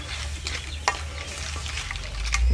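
Crab frying in a pan with vinegar, a steady close sizzle and crackle throughout with scattered pops and stirring scrapes.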